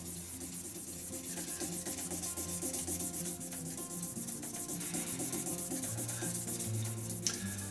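Steady, continuous rubbing of abrasive paper against a hybrid resin shaving brush spinning on a woodturning lathe, with a constant motor hum beneath the sanding.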